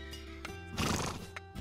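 A horse at a ranch in winter gives a loud, close neigh with a rising and falling whinny, with faint hoof clip-clop beneath it.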